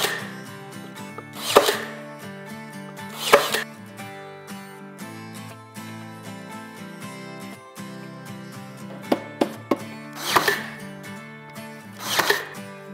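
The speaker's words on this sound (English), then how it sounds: "And then I'll nail it from the top." A hammer drives nails into the top of a handmade wooden bread box, giving five sharp, widely spaced knocks over steady background music.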